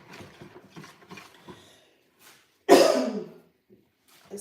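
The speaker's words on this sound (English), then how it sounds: "Excuse me, I had to cough" After some soft kitchen mixing sounds, a single loud, close cough bursts out and trails off, followed by near silence.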